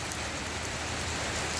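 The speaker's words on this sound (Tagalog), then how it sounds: "O kagaya nito, ulan." Steady rain falls throughout, a dense, even hiss of drops striking a surface, with no voices.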